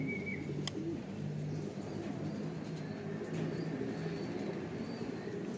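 A large flock of pigeons, around two thousand birds arriving from Talavera, coo steadily in soft low overlapping calls for several seconds over a constant background hum, with a brief higher chirp near the start.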